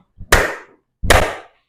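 Students in a classroom clapping game make two loud, close group hand claps about three-quarters of a second apart, each a sharp burst from many hands, with silence around them.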